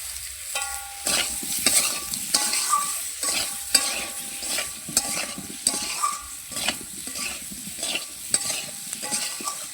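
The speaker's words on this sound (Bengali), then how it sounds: "একটু ভেজে নেবো আরও সুন্দর করে" Onion frying in a pan while it is stirred, a steady sizzle broken by repeated scraping strokes of the spoon at a regular rhythm, close and clear with no voices.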